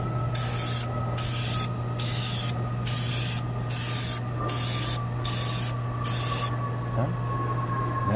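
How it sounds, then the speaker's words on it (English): Aerosol spray can hissing onto a vinyl decal in eight short, evenly spaced bursts of about half a second each, close and loud over a steady low hum. "You're ready now to spray. Always do a test spray."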